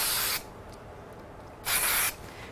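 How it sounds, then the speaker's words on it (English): Ranger Distress Oxide spray misted onto a handmade card in two short hissing bursts, the first at the start and the second a moment later, close and crisp with quiet between them. "And I'm going to give it a quick spray."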